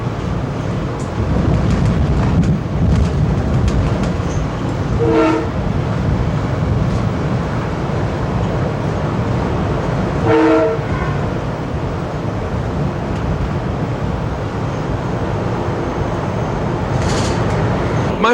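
Baltimore Metro subway train running through an underground tunnel, a steady loud rumbling roar with swooshing wind noise throughout, a few brief harmonic horn-like tones rising out of it.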